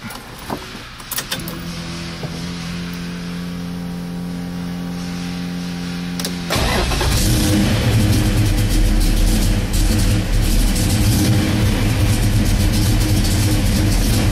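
A 1970 Plymouth Road Runner engine cranks and catches, then settles into a steady, loud idle with a deep rumble; a faint jingle of keys precedes the start.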